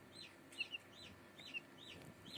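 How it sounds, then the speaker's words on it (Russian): Newly hatched Maran chicks, a meat-and-egg chicken breed, cheep faintly, with short high chirps repeating at an irregular rhythm over a quiet background. "Вот из 6 яиц вылупилось 3 цыпленка."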